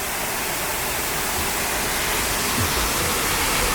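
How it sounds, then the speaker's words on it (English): A small lower waterfall trickles in the Scottish Highlands, a steady, close, full-band rush of falling water that continues evenly without pause. "it's more like Fairy Glen water trickle. But apparently this is the lower falls"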